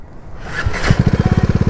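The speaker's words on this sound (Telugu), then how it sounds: "గేర్ వేస్తే స్టార్ట్ కొట్టు సెల్ఫ్ కొట్టు" A motorcycle engine turns over on the electric self-start and catches, settling into a steady, close idle with a rapid, even pulsing rhythm after a brief cranking burst.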